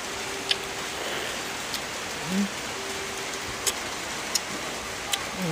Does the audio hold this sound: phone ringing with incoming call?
no